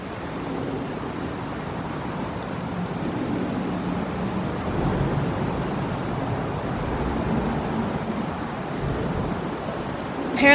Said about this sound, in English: So this water is really rushing pretty intensely up against this bridge.